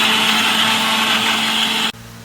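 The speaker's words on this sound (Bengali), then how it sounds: "আম মিক্সিতে দিয়ে দিয়েছি।" A mixer grinder whirs steadily and loudly as it blends peeled, cut mango pieces into paste, its motor cutting off abruptly near the end, leaving a lower hum.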